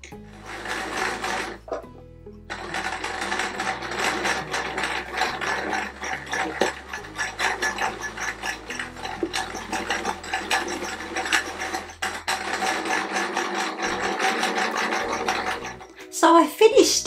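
A sewing machine stitches around an appliqué square on a Peter Rabbit patchwork quilt, a steady mechanical whirring and clatter running nearly continuously with brief pauses, close and loud.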